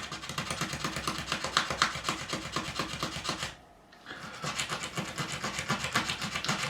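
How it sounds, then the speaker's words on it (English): A Stanley blade scraping filler flat on a guitar body during a Jaguar/Jazzmaster-style build, rapid rhythmic rasping strokes close up, loud and steady with a brief pause midway before resuming. "So just scrape the area till it's smooth and flat."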